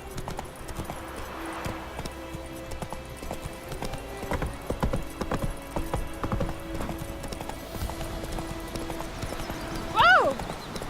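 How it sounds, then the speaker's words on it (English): A horse gallops in The Witcher 3, its hooves beating a fast, steady clip-clop throughout, with a short whinny near the end. "Run, Roach"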